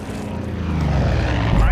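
A propeller plane in the Far Cry 5 video game roars overhead with a steady droning engine that grows louder, while players talk over it.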